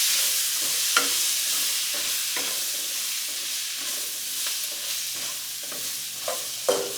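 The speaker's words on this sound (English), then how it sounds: "I'm just gonna cook off the curry a bit" Veggies with Beta Pack curry powder cooking in a pan, a steady sizzle under light intermittent stirring taps and scrapes, close and even.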